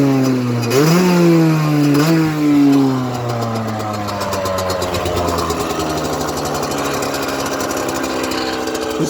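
Derbi Senda DRD Xtreme 2016 motorcycle kick-started, its engine revving up loudly in two quick bursts, then settling into a high, steady idle set too fast because the idle screw is missing, running close and alone.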